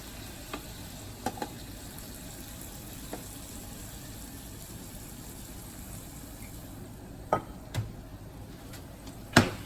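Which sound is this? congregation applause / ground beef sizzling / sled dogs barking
ground beef sizzling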